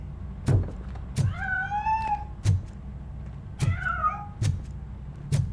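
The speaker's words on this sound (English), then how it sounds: "That cat must be hiding inside." A cat meows in the video game Robocop: Rogue City, two drawn-out wavering cries standing out clearly among several sharp thuds and clicks, with no talk.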